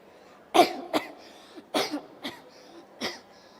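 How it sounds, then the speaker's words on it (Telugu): A single person coughs persistently and hoarsely in several separate bursts, some doubled, spread across a few seconds. The coughs are close and fairly loud against a quiet room, with no speech. "ఎంతకు తగ్గని దగ్గు."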